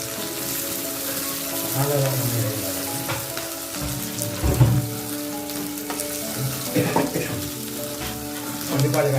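Tempering spices sizzling in hot oil for a brinjal curry, a loud, continuous frying hiss with bursts of crackle and occasional stirring clatter, heard up close with no talking.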